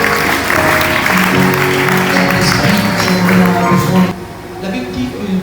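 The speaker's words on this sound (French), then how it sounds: "On peut acclamer pour cette parole." Applause from a church congregation during a worship service, a broad steady clatter of clapping mixed with crowd noise and music that drops away abruptly near the end.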